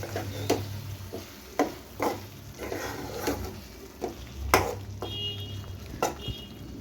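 Dry fish thokku with sprinkled coriander is stirred in a pan, a regular series of scraping, tapping spoon strokes over a low sizzle, close and moderately loud.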